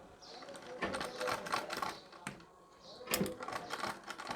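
A sewing machine stitching pleats on a saree at the waist, with rapid mechanical clattering in uneven bursts and short pauses, heard up close with a person speaking intermittently over it.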